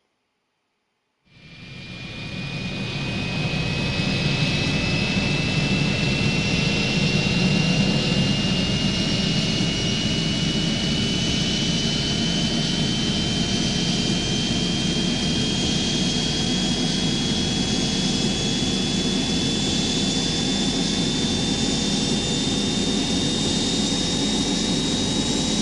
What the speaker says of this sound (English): let's get ready for takeoff